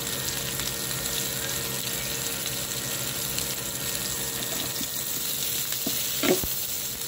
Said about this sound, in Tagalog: at i-toss natin ang ating chili